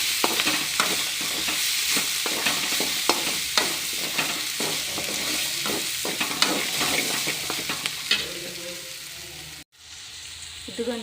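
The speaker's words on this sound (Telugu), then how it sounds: "ఇదిగోండి ఫ్రై అవుతుంది." Potato curry sizzles in a pan while being stirred, with repeated scraping strokes over a steady frying hiss, a brief break near the end, then continued sizzling.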